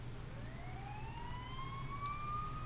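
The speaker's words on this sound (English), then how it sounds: "You hear sirens nearby." Rising siren wail from the Persona 4 Golden video game, a steady tone climbing slowly in pitch with harmonics, sounding moderately near over a constant low rumble, with no speech.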